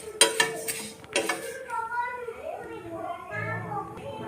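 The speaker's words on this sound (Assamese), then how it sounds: "সেই মুড়িখিনি মই একেৰাহে এনেকৈ লৰাই গৰম কৰি আছিলোঁ" Puffed rice is stirred in a pan while it heats, with a couple of sharp metallic scrapes and clinks at the start, then softer rustling under a voice and other talk.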